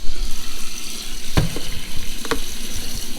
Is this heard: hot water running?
yes